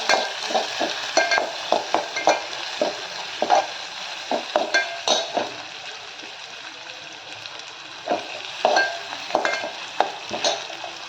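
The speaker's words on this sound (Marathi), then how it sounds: "चांगला कांदा परतून घ्यायचा आपल्याला" Chopped onion is sautéed in a pan while being stirred for a rajma curry, with a quiet sizzle under repeated scraping spoon strokes in an irregular rhythm, close and fairly faint.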